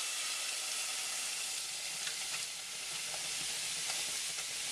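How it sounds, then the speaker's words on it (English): Italian sausage fries in a pan over medium-low heat, giving a steady, close sizzle with faint pops and crackles and no talk. "Sausage is cooking."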